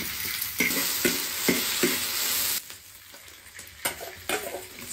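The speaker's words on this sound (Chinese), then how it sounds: "这五花肉炒一下" Pork belly sizzles in a pan while being stir-fried, a steady close frying hiss broken by rhythmic scraping stirs, then quieter bubbling with a few more spatula strokes.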